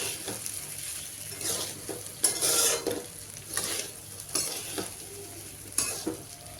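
Sago pearls for about four people being stirred in a frying pan, with a spoon scraping and clinking in repeated strokes over a soft, steady sizzle, fairly close and without voices.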